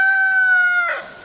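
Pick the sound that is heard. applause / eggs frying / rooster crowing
rooster crowing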